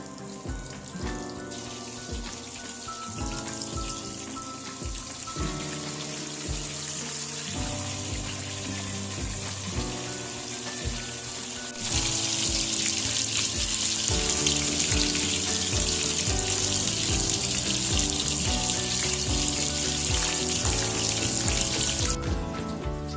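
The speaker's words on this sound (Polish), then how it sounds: "Kotlety schabowe smażę po 3 minuty z każdej strony" Steady, dense sizzling of breaded pork cutlets frying in a pan, continuous and fairly loud throughout, growing brighter and more intense about halfway through.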